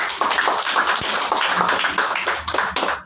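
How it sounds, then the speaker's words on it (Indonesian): Clapping at a church fellowship gathering, a short burst of hand claps filling about three seconds with a steady, fairly loud patter. "dan tepuk tangan dulu"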